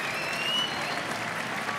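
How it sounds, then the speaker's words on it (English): Crowd applause rising after a men's singles badminton victory, a steady dense clapping wash held evenly throughout with no voices on top. "The crowd showing their appreciation."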